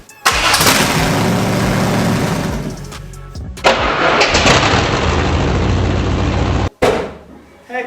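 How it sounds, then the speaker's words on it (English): A 5.7 Vortec V8 swapped into a first-gen Chevy S10 cranks and fires loudly up close, roaring for a few seconds, dropping, then catching again in a rough running burst before cutting off abruptly. "So let's go ahead and crank it. Hopefully it at least fires."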